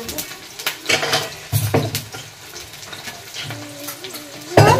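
Vegetables frying in a pan, cauliflower among them, in a home kitchen: a steady close sizzle broken by metallic scrapes and clinks of stirring, with occasional voices talking.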